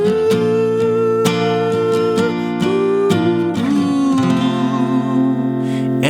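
Guitar playing the slowed closing bars of a song, a few spaced strums and ringing chords easing down in volume and tempo before settling on a sustained final chord, with no voices.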